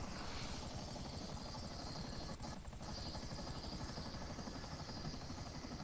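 A helicopter in GTA Online, its rotor chop thumping in a fast, steady beat as a loud, continuous drone that fills the whole stretch, with no one talking.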